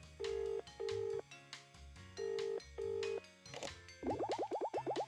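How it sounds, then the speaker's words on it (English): Telephone being dialed in the video game Escape from Ever After: a run of steady beeping tones broken by short gaps, a quicker patter of rising chirps near the end, all clear and close with no talking. "Please wait 1 second while I phone my boss."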